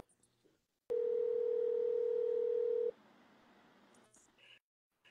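Telephone dial tone heard as a call is placed, a single steady pure tone held for about two seconds, then dropping away to quiet background noise and a few faint clicks.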